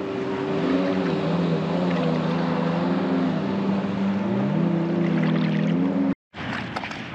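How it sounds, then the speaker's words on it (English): Jet skis speeding on the Mississippi River, a steady whining engine drone with shifting pitch carried over the water from mid-distance, briefly cutting out near the end before resuming. "Look at the jet skis go."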